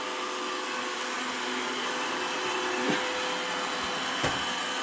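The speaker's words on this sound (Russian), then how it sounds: "Робот-пылесос, круто." A robot vacuum cleaner runs indoors with a steady, fairly quiet whirring hiss, broken by two brief soft knocks as it bumps into something.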